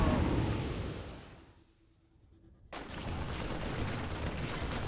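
Marines trade fire in a StarCraft 2 battle against zerglings, a busy clatter of rapid gunfire and impacts. It fades briefly to near quiet, then cuts back in at steady volume.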